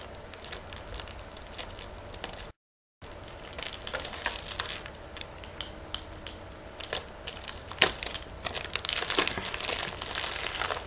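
Plastic wrap crinkles and crackles as it is picked at and torn from a Battlefield 3 limited edition game box, close and fairly quiet, with irregular crunchy bursts and a brief gap of silence.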